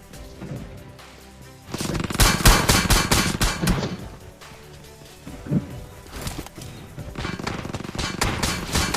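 Rapid automatic gunfire rattles in dense bursts during a video game firefight, loud and continuous with brief lulls between volleys and sharp single shots mixed in.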